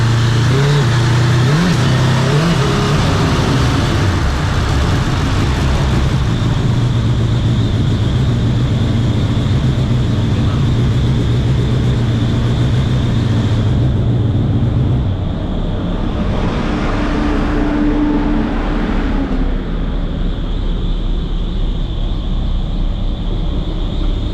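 A Hayabusa turbo engine in a KE10 Corolla runs on a dyno with a slipping clutch, giving a loud, sustained droning roar that holds steady and then shifts in pitch partway through.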